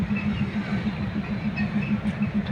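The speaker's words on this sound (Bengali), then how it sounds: "মহানন্দ ট্রেন আসলো" A steady, low mechanical rumble drones on without a break as the Mahananda train arrives at Paksey station, with no voices.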